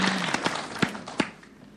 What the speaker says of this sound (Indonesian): Tepuk tangan dulu, mantap.